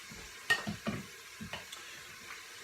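Chopped onion frying in a soup pot is stirred with a spoon, giving several close scraping strokes at an uneven pace over a low, steady sizzle, with no voices.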